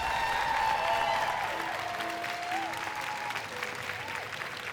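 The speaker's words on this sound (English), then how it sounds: "Please give a massive round of applause to our fantastic players in" A gaming-festival audience applauds the players in a steady, sustained wash of clapping, with a tone or whistle threading through the crowd noise.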